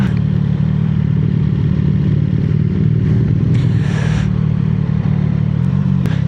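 A CFMoto 675SS motorcycle rides along on a sunny Southern California road, its engine droning loud and steady with a brief rise in rushing noise midway, no talk heard.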